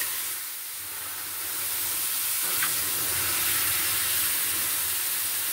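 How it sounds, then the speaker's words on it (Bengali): Tamarind water hits a hot spice tempering in the pan, setting off a broad steady sizzle and steamy hiss that swells slightly and carries on evenly without any voices. "ফোড়ন দিলাম, আমি দিলাম তেঁতুল গুলে রাখা জল"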